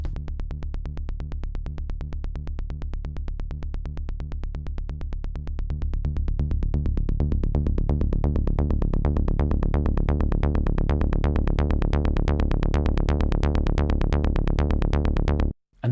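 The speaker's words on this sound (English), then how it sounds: "So if I turn the envelope down to 0, there is no filter envelope on this sound." A Logic Pro X synthesizer with its filter envelope set to zero plays a loud, steady stream of evenly repeating notes with a bright, unchanging tone, growing slightly louder partway through before stopping abruptly.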